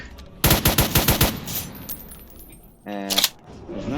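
Rapid burst of synthetic automatic gunfire from a Roblox game weapon, about eight quick shots, then a pause and a shorter, tonal burst of firing, loud and close.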